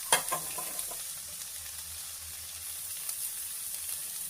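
Food roasting in oil in a pan, a soft, quiet sizzle with a few light stirring knocks at the start, then a low steady crackle.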